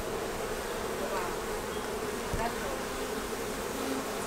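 Honeybees buzzing densely and continuously at an open urban garden beehive in Brooklyn, a steady close swarm drone with no talking.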